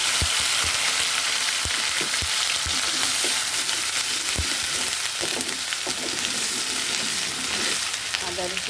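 Ground ginger and garlic spice paste fries in a hot pan with a continuous loud sizzle, broken by occasional sharp pops and stirring scrapes.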